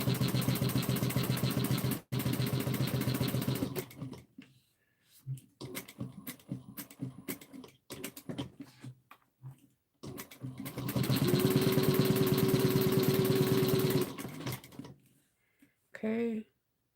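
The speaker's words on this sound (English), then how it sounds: "we're going to sew down 1/8 of an inch down all long sides" A sewing machine stitches fabric seams for an Erica bowler bag, running in long steady buzzing bursts with short pauses and lighter handling noises between them.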